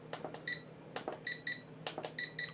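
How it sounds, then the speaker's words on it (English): A JJRC H11WH drone remote gives short electronic beeps as it cycles through modes, sounding in quick clusters of one to three tones, clear and close over faint handling noise. "We hear 1 beep for mode 1, 2 beeps for mode 2, and 3 beeps for mode 3."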